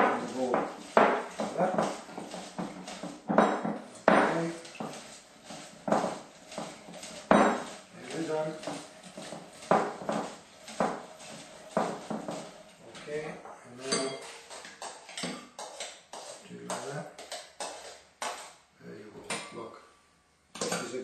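Tomato sauce being pushed through a food mill into a bowl, repeated metallic scraping and clinking strokes in an uneven rhythm, with someone talking over much of it.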